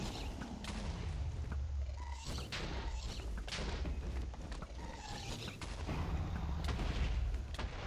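Repeated shooting at a dragon in the Minecraft Divine RPG modpack, a run of booming game shots and thuds over a constant low rumble, fairly loud and even throughout.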